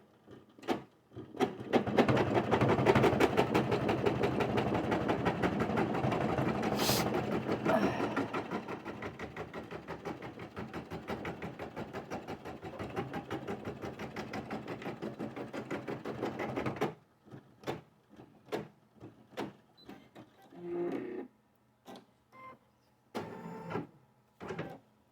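A sewing machine stitches fabric for a pen holder, running in a long, fast, continuous burst of rapid needle clatter, then stopping and giving way to a few short, separate stitching spurts and mechanical clicks.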